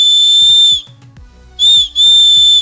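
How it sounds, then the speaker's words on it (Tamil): Loud, shrill emergency whistle built into a 3-in-1 keychain gadget, blown in three close, piercing blasts: one long, then a short burst and another long one. "அண்ட் ஃபைனலா கன்னோட டாப்ல ஸ்லைட் பண்ணா ஒரு எமர்ஜென்சி விசில்."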